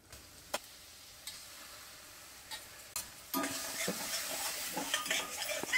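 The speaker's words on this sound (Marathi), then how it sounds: "आता आपली कोळंबी आहे छानपैकी आपण परतून घेऊया मोठ्या गॅसवर।" Marinated prawns are tossed in a hot pan over a high flame, first a few sharp utensil clacks over a quiet background, then a loud sizzle bursts in and continues with scraping stirs, close and without speech.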